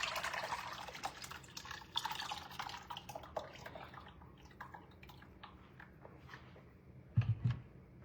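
A chicken and rice mixture is poured into a pot and stirred for a one-pot meal. Wet, sloshing pours and drips come first, then fade into softer scraping and stirring, with a brief louder knock near the end.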